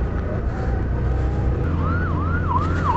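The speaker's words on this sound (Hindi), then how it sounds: "एक और एम्बुलेंस" Ambulance siren wailing on a city road amid traffic, a loud rising-and-falling yelp over engine rumble, growing stronger as it passes close by.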